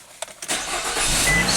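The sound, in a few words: Nissan car engine starting with the key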